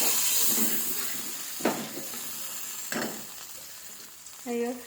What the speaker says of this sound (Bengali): এবার আমি এই সর্ষে বাটাটা দিয়ে দিচ্ছি, সর্ষে আর পেঁয়াজ বাটা। একটু নাড়াচাড়া করে নেব মশলাটা দিয়ে।